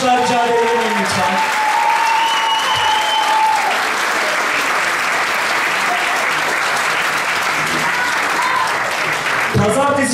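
Loud, sustained applause from a concert audience fills the whole stretch, steady and dense, with a voice briefly heard over it at the start and end.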